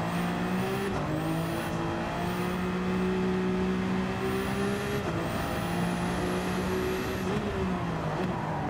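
Race car driven in the video game Gran Turismo 7, a continuous high engine whine rising and falling through repeated gear changes, with short brake squeals, steady and close, no talk.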